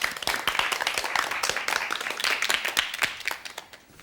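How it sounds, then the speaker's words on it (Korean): A studio audience on a Korean storytelling broadcast claps for the next storyteller, a scattered round of individual hand claps, close and moderately loud, thinning out toward the end. "박수로 청해 듣겠습니다"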